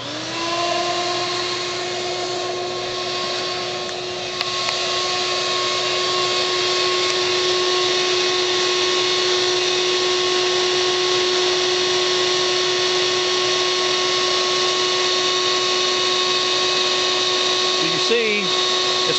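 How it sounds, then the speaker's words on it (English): A Vac-a-Bee bee vacuum runs with a loud, steady motor whine and suction hiss, unbroken for the whole stretch, with a small shift in pitch partway through. "I'll adjust the suction, and this will create more of a suction to get the bees in."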